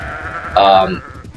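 Sheep in the video game Sudeki give a single close, loud bleat, a short wavering cry over faint background game sound.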